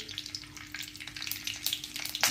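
Mustard seeds sputter and crackle in a little hot oil for a village-style okra and buttermilk dish, a busy, close run of small pops and sizzling that grows sharper toward the end, without speech.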